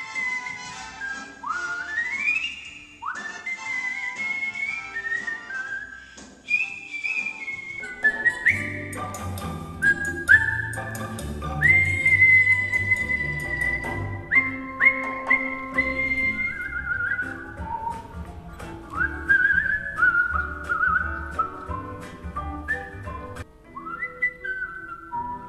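A person whistles a long, clear, sliding melody on stage, loud and close, with low sustained instrumental accompaniment joining underneath partway through.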